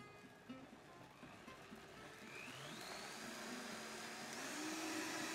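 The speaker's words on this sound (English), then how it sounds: "Always start with your blender on the lowest setting and slowly raise the speed." A blender motor blitzing tuna into a thick, creamy puree for a tonnato sauce, its whir rising steadily in pitch as the speed is raised from the lowest setting, a continuous close hum with no talk over it.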